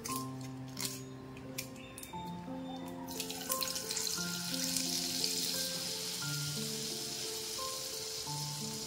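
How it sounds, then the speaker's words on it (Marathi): Butter added to a spoonful of hot oil for a dhaba-style mixed vegetable dish, swelling into a steady hiss and crackle partway through, heard under soft background music. "एक स्पून इतकं तेल टाकलेलं आहे। आता त्याच्यामध्ये आता आपण बटर टाकूया।"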